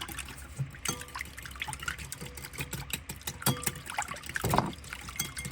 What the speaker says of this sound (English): Gonna whisk this together